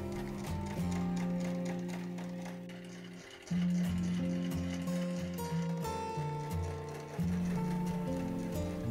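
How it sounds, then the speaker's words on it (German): A sewing machine stitches two layers of fabric together close to the edge for a laptop bag, whirring steadily in long runs with brief pauses between them. "Näht die beiden Lagen knappkantig zusammen"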